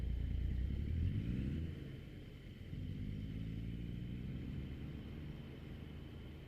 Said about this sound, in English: Your truck is the main sound